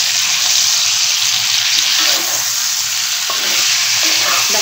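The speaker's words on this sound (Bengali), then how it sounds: "এই যে চিকেনটা যে ভাজা হচ্ছে" Chicken pieces fry in a hot pan for a creamy malai chicken recipe, a loud steady sizzle with soft scraping as the meat is stirred, and no voices.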